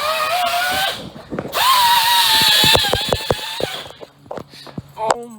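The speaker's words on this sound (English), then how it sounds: "he's getting all that rust off with this little gun thing" A loud, whining power tool strips rust from an E36 BMW M3 in two long sustained bursts separated by a brief pause, followed by scattered clanks and handling noises as the tool stops.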